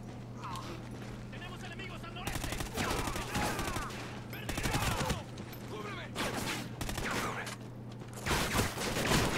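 Bulldog shotgun blasts in Call of Duty: Ghosts, several loud, close booming shots in irregular bursts with mechanical pump clatter between them, alone without talk.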